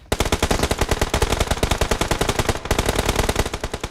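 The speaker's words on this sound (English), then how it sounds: "And Yaya just providing cover fire" Rapid automatic gunfire in a PUBG Mobile tournament semi-final, a dense unbroken stream of loud close shots with a very brief gap near the end before the burst resumes.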